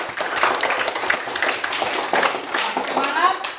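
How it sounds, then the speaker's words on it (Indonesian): Hands clapping together in a classroom as students give their classmates applause, a dense steady patter of many claps close by for a few seconds, with some voices mixed in. "Kita berikan tepuk tangan."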